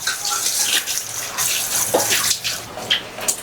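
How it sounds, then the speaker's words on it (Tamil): Tap water runs steadily into a kitchen sink while something is washed under it, a close hissing splash with brief louder gushes and spatters. "ரன்னிங் வாட்டரில் வாஷ் பண்ணி வச்சிடலாம்."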